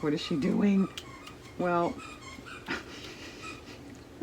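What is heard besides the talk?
dog playing with squeaky toy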